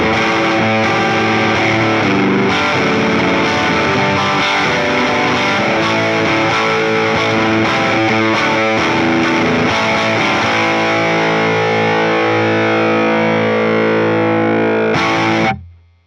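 An electric guitar plays through a 12AT7 tube stompbox model in a Fender Tone Master Pro, giving a loud, continuous, driven tone with sustained chords and notes that ring out and cut off near the end.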